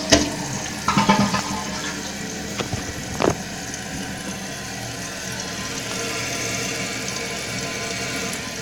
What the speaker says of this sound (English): Let's flush this toilet.